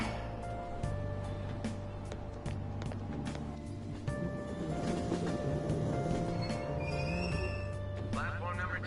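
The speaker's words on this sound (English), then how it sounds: "I gotta wait for the train now." Train at a subway station in the video game Persona 5 Royal, with a steady low rumble, chimes and electronic announcements layered over continuous background ambience, while a person talks over it.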